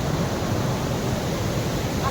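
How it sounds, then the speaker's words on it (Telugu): A small waterfall in Nirmal district, Telangana, pours in a constant, even rush of falling water, near and moderately loud, with a faint hint of wind buffeting the microphone. "చిన్న వాటర్ ఫాల్"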